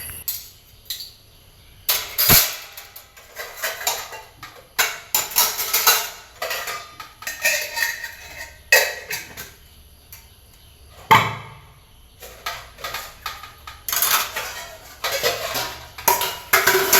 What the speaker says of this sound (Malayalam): പാത്രങ്ങളൊക്കെ കഴുകി വന്നിട്ട് സ്റ്റാൻഡിൽ കൊണ്ടുവച്ചു.